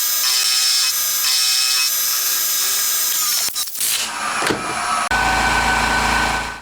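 A lathe or cutting tool grinds loudly and continuously on the rounded side of a connecting rod bearing half for a 125cc four-cylinder engine, with a brief rattle and pitch shift midway.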